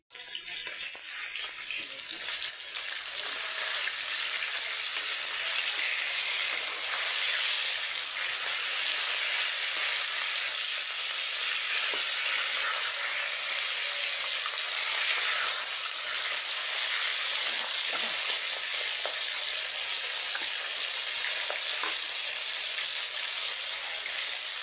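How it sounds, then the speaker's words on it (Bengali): Spice masala for a fish curry sizzles steadily in a hot pan, a continuous bright frying hiss that stays loud and even throughout with no talking over it. "যে মশলা কষাচ্ছি তরকারি রান্নার জন্য"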